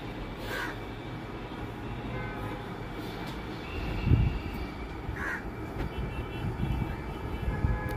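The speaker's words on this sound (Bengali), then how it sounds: "যে বাসায় কাক চলে এসেছে একটা, মানে বাইরে বারান্দায়" A crow on an apartment balcony gives two sharp caws several seconds apart, heard at moderate distance over a low, steady rumble of background noise.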